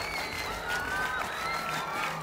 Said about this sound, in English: We're now clapping in unison.